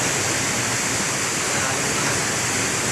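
Mayang Falls waterfall in Conchu, Trece Martires, Cavite roars as a dense, constant rush of falling water, loud and close with no break.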